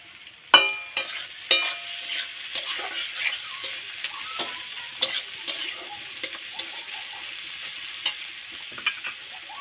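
Onions sizzling in hot oil after garlic, for a native chicken curry, with a steady frying hiss broken by sharp clinks and scrapes of a stirring spoon against the pan.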